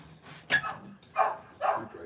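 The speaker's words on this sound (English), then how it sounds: "Are they barking at you?" Several dogs bark in three short bursts at a worksite where a 16ft Nitro bass boat is being turfed, fairly close and loud, with bits of faint talk in between.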